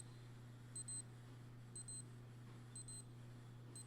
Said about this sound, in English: That was my watch beeping telling me it's noon.